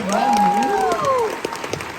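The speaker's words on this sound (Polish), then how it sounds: "należą się brawa naszym tutaj wspaniałym cosplayerom" Crowd at a cosplay show final claps and cheers under a drawn-out, rising-and-falling voice, the applause fading to a few scattered claps by the end.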